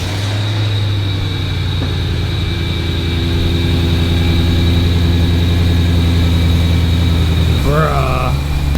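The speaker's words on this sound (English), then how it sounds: "Listen to that, V8 E91" A BMW E91 M3-engined wagon with the S65 V8 running at a steady, loud idle, a deep low rumble throughout that briefly rises as the engine is blipped near the end.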